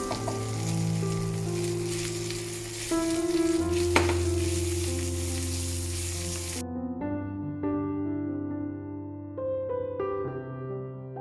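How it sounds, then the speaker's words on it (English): Cooked rice being stirred into a gongura (sorrel leaf) mixture in a hot pan gives a steady close sizzle and frying hiss. Soft stirring scrapes run through it, with quiet music playing throughout. "Finally, add the cooked rice and mix thoroughly and turn off the flame."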